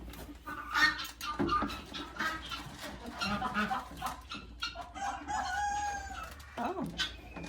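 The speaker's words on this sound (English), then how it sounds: "heard a rooster crow" A rooster crows on a farm where goats, a pony and ducks are kept, the call sounding amid clucking fowl and general barnyard noise, with a few faint voices in the background.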